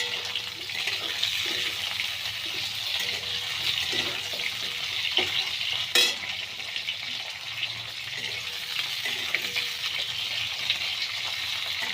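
Diced potatoes added to a pan of oil where pointed gourd has already fried, stirred while cooking for a rohu fish curry with ridge gourd: a steady, fairly loud sizzle with a single sharp clink midway and no voices.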